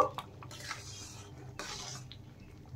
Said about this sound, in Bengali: এখন একটু নেড়ে দেব।